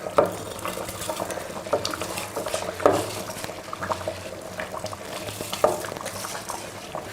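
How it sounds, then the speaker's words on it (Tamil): Rice is tipped into boiling water in a pot for chicken biryani and stirred, with spoon scrapes and clinks against the vessel over a bubbling, sizzling background. "இப்போ இதில் நம்ம அரிசி சேர்த்துடலாம்."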